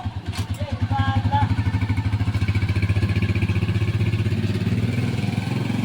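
A motorcycle ridden to a spearfishing spot in the Philippines putters loudly with a fast, even pulsing beat, revving up at the start and then holding a steady cruise, with voices faintly underneath.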